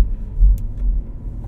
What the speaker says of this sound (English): See how it does these bumps in the tour.